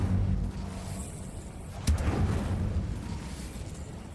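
Fiery spell blast from Incendio cast in Hogwarts Legacy, a whooshing burst with a sharp flare near the middle over steady rumbling game ambience and background music.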